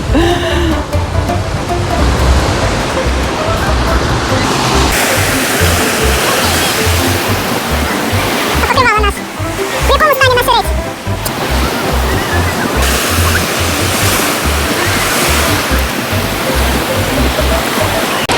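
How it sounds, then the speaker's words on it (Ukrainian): Strong wind roars over continuous crashing sea surf, a loud, dense wash of noise with waves breaking repeatedly close by. "Вітер Молодець сьогодні. Оце да. Хвилі наганяє."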